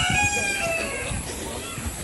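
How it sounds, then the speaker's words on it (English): A rooster crows in the morning in a rural Philippine province, a single drawn-out call heard at moderate distance over outdoor background noise. "The beautiful sound of the morning cock."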